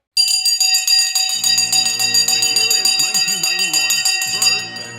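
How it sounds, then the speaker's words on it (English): Opening bell for the stock market rings in rapid, continuous metallic strokes for about five seconds, loud and close, with a faint voice underneath toward the end. "The bell has now gone once again."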